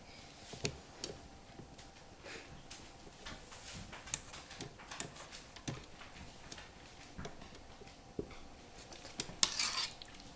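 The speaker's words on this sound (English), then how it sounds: "You're going to scrape the edges and it off of the mixer, so there are no clumps of anything stuck." A spatula scrapes batter off the sides of a stand mixer bowl, producing faint scattered clicks and scraping taps at an uneven pace, close but quiet.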